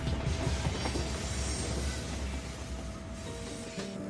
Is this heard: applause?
no